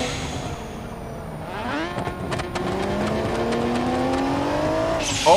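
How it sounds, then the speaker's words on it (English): A car engine revving in GTA 5 with a wheel and transmission mod, the pitch sweeping up and holding high in a sustained whine, with tonal harmonics rising and falling. "I hear you just endlessly revving"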